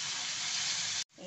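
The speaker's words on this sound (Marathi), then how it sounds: "आता टोमॅटो पण मी 2 मिनिट परतते." Tomatoes sauté in a pan for a vermicelli upma breakfast dish, giving a strong, steady hiss of sizzling that cuts off abruptly near the end before a quieter sound returns briefly.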